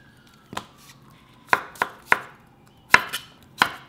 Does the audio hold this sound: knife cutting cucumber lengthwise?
yes